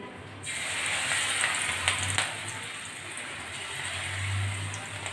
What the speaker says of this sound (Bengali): এখন আমি বড়াগুলো ভেজে নিচ্ছি